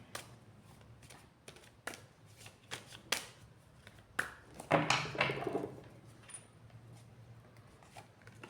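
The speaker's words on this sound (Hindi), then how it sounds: "तो कार्ड्स को शफल कर लेते हैं।" Tarot cards shuffled by hand nearby, a series of crisp riffling snaps and flicks, with one longer riffle in the middle and softer card handling afterward.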